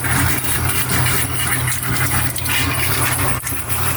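Water rushes steadily through the plumbing of a newly pressurized camper van water system, a continuous hissing flow over a low mechanical hum with no voices.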